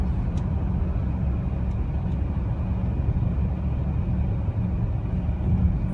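Cabin of a 2015 Ford Edge Sport AWD EcoBoost cruising at 50 mph, a steady, loud low rumble of road and engine noise with no talking.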